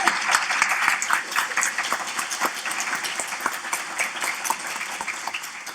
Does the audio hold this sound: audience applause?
yes